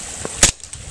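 A KJW M1911 CO2 airsoft pistol fires a single sharp, loud crack, with a faint click just before it and quiet handling afterward.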